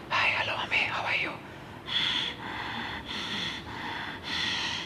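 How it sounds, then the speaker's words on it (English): Ujjayi or ocean breathing in a class setting, several slow audible breaths that come as repeated soft, rushing hisses, fairly close, each lasting about half a second. "It's called gossip breathing because of that sound."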